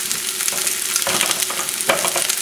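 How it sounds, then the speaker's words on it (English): Shallots and garlic sauté in butter over a fairly high flame, giving a steady, close sizzle with stirring scrapes breaking through now and then. "And we're going to saute the shallots and the garlic."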